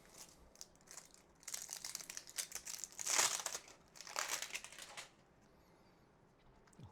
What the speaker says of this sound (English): it's got the plastic peel tab where it's loose, so it gives you easy sort of access to rip that one open